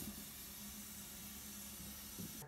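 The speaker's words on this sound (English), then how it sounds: "I hear the steam." Steady hiss of escaping steam from a Kohler K9 steam generator, Model 1659, under repair, continuous and fairly quiet, with a low rumbling hum underneath throughout.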